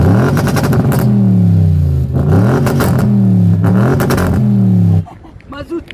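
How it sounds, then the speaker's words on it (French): An Audi RS6 engine starting and revving hard several times in rising and falling bursts, loud and close, then dropping away to a quieter idle. "Bon les gars, on va démarrer la RS6."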